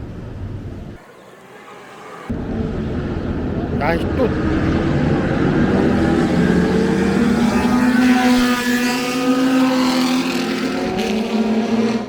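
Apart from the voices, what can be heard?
race cars driving on circuit next to hotel, Yas Island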